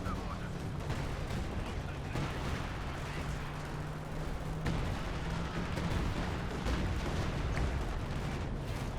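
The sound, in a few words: artillery shots firing in Company of Heroes 2 video game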